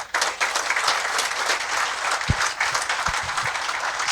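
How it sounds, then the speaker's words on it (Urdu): An audience at a dialogue on Sufism bursts into loud, sustained applause, a dense crowd of clapping hands that fills the room continuously for several seconds. "آڈینس نے اس کی تائید کی ہے تالیوں کے ساتھ"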